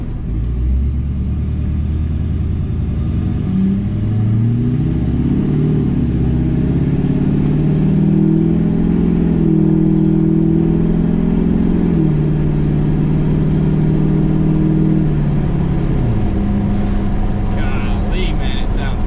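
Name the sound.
Duramax diesel truck with straight pipe exhaust revving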